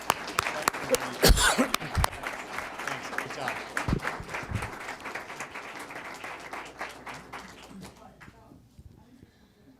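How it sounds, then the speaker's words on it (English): Audience applause at a school board of education meeting honoring students, steady clapping with cheers that fades out over about eight seconds, with a brief spoken thanks early on. "Big round of applause."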